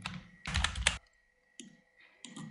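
A key pressed on a computer keyboard while working in DaVinci Resolve, heard as two or three short, close clicks separated by quiet gaps.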